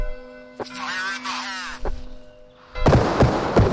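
Pistol shots in a tactical first-person bodycam-style shooter, a few sharp cracks starting partway through, loud and close, following a stretch of talk and a steady tonal hum.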